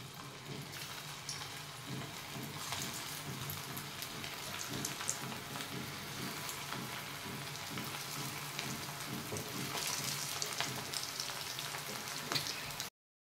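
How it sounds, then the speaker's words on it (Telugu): Potato bites deep frying in hot oil make a steady, close crackling sizzle that runs unbroken throughout, with occasional faint clinks and no talking. "బైట్స్ అన్నీ ఇలా రెడీ చేసుకొని డీప్ ఫ్రై చేసుకోవాలి."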